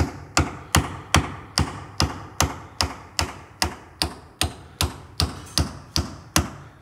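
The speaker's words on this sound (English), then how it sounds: "Tap on the hammer." Sharp, evenly spaced hammer taps on a bus part in a repair shop, about seventeen in a row at a steady rhythm, close and crisp with no talking.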